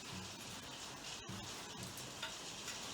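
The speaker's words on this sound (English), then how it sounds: "there's more hail bouncing off the roof next door" Small hailstones bounce off a neighbouring roof in a steady, dense crackling patter with a few sharper ticks, continuous throughout and heard from nearby outdoors.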